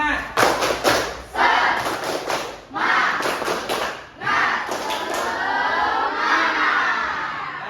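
A school class performs the tepuk semangat spirit chant, with rhythmic group clapping in patterned bursts mixed with shouted chanting voices, close and lively, settling into a sustained crowd noise at the end.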